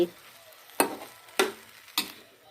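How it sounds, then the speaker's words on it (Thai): Cabbage being stir-fried in a pan, with three distinct scraping stirs of a utensil spaced evenly over a faint background sizzle, close and without talk. "พอละผัดกะหล่ำปี มันก็จะได้ผัดกะหล่ำปี"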